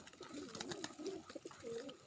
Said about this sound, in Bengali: দেখেন কবুতর আমার একেবারে নিকটে।